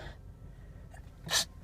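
A single sharp sneeze bursts out near the end, close and loud, from a driver circling for a parking spot inside a car, after a stretch of quiet cabin hum.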